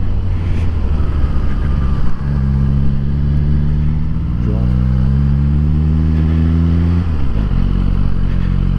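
A Suzuki GSX-R1000R sportbike engine rumbles loudly and close at low speed through a McDonald's drive-through in Great Yarmouth, rising in revs with a gear change partway through, over steady wind noise.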